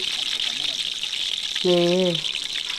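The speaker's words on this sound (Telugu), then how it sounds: "అన్ని బిర్యానీ మసాలాలు అయితే మనం యాడ్ చేసుకుందామండి అటు ఇటు తిప్పుకుందాం" Biryani masala spices fry and get stirred in a pan while a coconut-milk chicken pulao is cooked. There is a steady, close sizzle with stirring, and a voice speaks briefly partway through.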